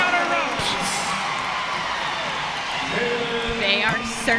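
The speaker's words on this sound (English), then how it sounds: "and the crowd erupts" A crowd cheering and whooping after a gymnastics bar dismount at a college meet, a steady wash of roaring applause with a commentator talking over it.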